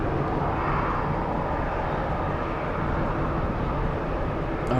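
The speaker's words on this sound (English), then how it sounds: "A lot of planes. We're starting to have a bit of a queue for takeoff now." Jet airliners lined up for takeoff at a busy airport, including an Alaska flight bound for Portland, give a steady, loud engine rumble and roar that fills the scene without pause.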